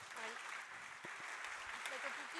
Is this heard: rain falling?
no